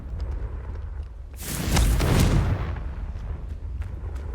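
A Confringo blasting spell in Hogwarts Legacy bursts into a single loud, rumbling explosion that swells and fades over about a second against quiet game ambience.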